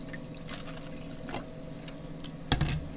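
Vodka poured from a bottle into a glass, a soft continuous trickle of liquid with a brief louder splash near the end, close and fairly quiet.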